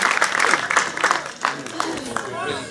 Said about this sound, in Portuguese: as palmas para o Sr. Osvaldo, chegou tarde, mas merece as palmas